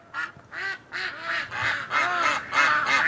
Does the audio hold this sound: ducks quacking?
yes